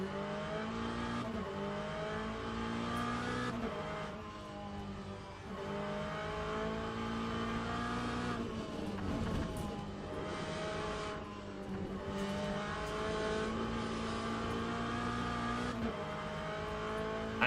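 An LM GT3 race car engine in the video game Le Mans Ultimate roars steadily, revving up and down through gear changes over a continuous drone, with no talk.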